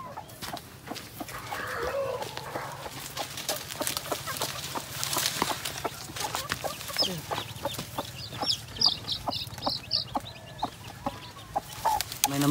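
Chicks peep and a mother hen clucks repeatedly at close range, with soft rustling between calls and no speech.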